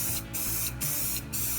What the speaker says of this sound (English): flat crystal clear Krylon to seal the paint before I apply the darker brown glaze over the top. So I'll just give this a quick spray